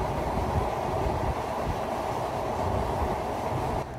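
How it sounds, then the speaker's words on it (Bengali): The Benapole Express, running from Dhaka to Chuadanga by way of the Padma Bridge, gives a loud, steady rolling rumble with a faint rhythmic clatter of the wheels on the track. No one speaks. "আজকে আমরা বেনাপোল এক্সপ্রেস ট্রেনে যাব হচ্ছে চুয়াডাঙ্গাতে"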